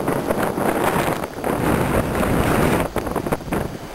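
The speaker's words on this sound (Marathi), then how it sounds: "ज्या दिशेने स्नो पडतोय आणि वारा येतोय" Snowstorm wind blows hard against the microphone in Sterling, Virginia, a loud, continuous buffeting roar with gusty surges and no talking.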